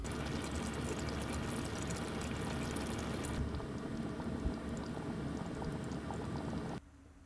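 Vegetables for lentil soup simmering in a pot inside a camper van, a steady close bubbling and sizzling hiss that drops quieter partway through and cuts off near the end.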